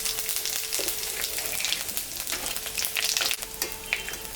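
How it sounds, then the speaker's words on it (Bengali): Cardamom, cinnamon, dried chilli, bay leaf and cumin hit hot oil left from frying fish, crackling and sizzling close up with irregular pops and stirring scrapes, moderately loud. "এখানে এলাচ, দারচিনি, শুকনো লঙ্কা,"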